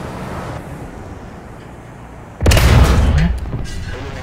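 Sudden heavy boom of a tank exploding and its turret blowing off in War Thunder, a loud close blast with a rumbling tail that follows a quieter stretch of engine and battlefield ambience.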